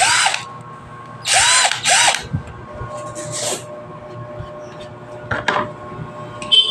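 A Mitsushi 12V cordless drill from a driver kit runs in several short bursts with rising and falling motor whine, close and loud, separated by pauses with faint handling clicks.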